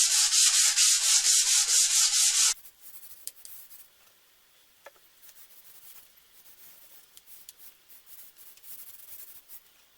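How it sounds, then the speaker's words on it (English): Cedar wood slats are sanded in a shop with fast, loud back-and-forth rasping strokes for a couple of seconds. Faint scattered handling noises follow after the sanding stops. "it's cedar, so it isn't too bad to sand."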